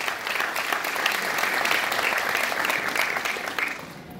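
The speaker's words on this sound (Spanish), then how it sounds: "fuertes los aplausos para ella." Steady, fairly loud applause from an audience at a Christmas basket giveaway in Tierra Blanca, continuous clapping that tapers off at the very end.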